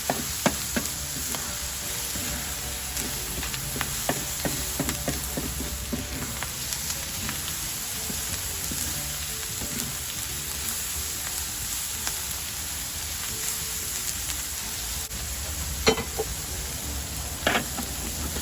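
Sac kavurma meat stir-frying on a sac pan, a steady close sizzle and crackle with scattered clinks of stirring, no voices.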